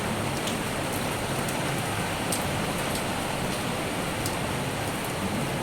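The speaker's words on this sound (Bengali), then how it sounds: "বাইরে এখন বৃষ্টি পড়ছে রাত্রির থেকে আরম্ভ হয়েছে" Steady rain falls outside through the night, a constant, even hiss of drops on surfaces at moderate loudness, with no voices.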